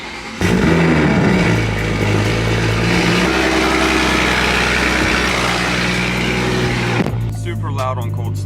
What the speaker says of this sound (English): Super loud on cold start, but it does idle down to a good sound.